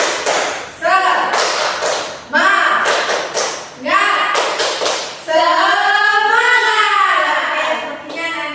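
Classroom group performing a rhythmic 'tepuk semangat' cheer, several quick clap patterns in bursts with chanted voices between, ending in a drawn-out shouted call.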